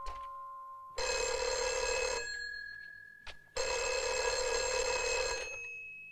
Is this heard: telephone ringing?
yes